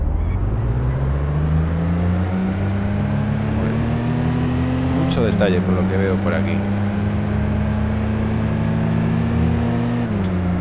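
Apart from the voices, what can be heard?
Dacia Logan car engine in VDrift racing simulator game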